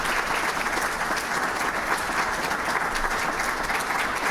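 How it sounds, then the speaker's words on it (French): A room of young entrepreneurs at a Burkina Faso business event claps loudly, a dense, steady wall of applause that holds at even strength from start to finish. "Ils vont commencer par s'applaudir très fort."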